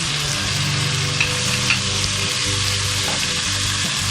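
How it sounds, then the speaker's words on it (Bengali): Ginger paste fried in a pan with turmeric, cumin and coriander powders for chole masala, a steady loud sizzle and crackle with some stirring, close and continuous, no talking. "মশলা দেখুন প্রায় ভাজা হয়ে গেছে"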